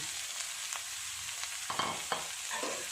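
Boiled potatoes being stirred into a pan of aloo capsicum curry with garam masala, a steady low sizzle under a few scraping spoon strokes, close and fairly quiet, with no talking.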